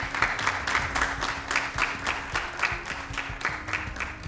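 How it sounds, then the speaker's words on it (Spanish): Audience applause greets the jury at a school debate tournament, a steady burst of many hands clapping throughout at moderate level, with a faint voice beneath. "recibimos con este mismo cálido aplauso a nuestros jurados permanentes, Moira Breque"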